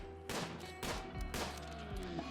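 Gunfire in the video game Rimworld cracks out in three sharp, evenly spaced bursts, each decaying quickly into a quiet, humming game background.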